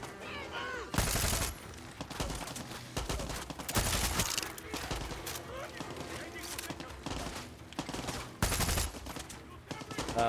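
Gunfire in the shooter game Far Cry 6 rattles in repeated bursts of rapid shots, some loud and close, under someone talking throughout.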